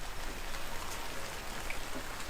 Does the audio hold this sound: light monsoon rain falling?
yes